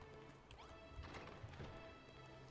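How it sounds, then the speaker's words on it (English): Horses in the video game Dragon Quest Builders 2 clip-clop and whinny at moderate distance over steady game background music, with a few sharper clattering hits mixed in. "All the horses."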